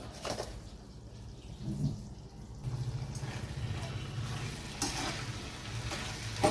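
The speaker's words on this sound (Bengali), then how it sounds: "চিনিটা ভালোভাবে মিশিয়ে নিচ্ছি" Sugar stirred into a coconut and papaya vegetable curry in a pan, soft scraping strokes and low sizzling, close but fairly quiet, with faint background sounds.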